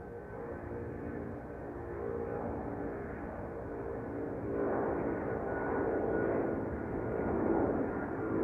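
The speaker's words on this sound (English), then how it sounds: "Here we have Turkish Flight 1952 on its way to Istanbul" Turkish Airlines jet airliner departing Amsterdam Schiphol for Istanbul, a steady distant engine roar that swells gradually in loudness, heard alone without talk.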